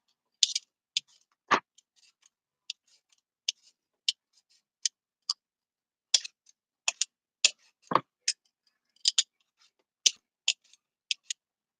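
Potatoes being peeled by hand for a home-made potato soup, giving a series of short, crisp scraping ticks at an irregular pace, close and fairly quiet, with a couple of heavier scrapes and no talk.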